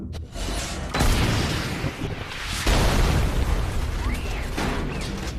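Heavy booming blasts and a roaring rumble fill the clip, with a loud burst near the start and another surge midway, from a bazooka fired in a video game.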